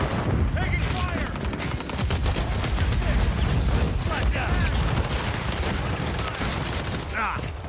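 Gunfire in Call of Duty Warzone, dense volleys of shots crackling and popping nonstop at close range with some heavier booms mixed in, while a voice talks over the steady battle noise.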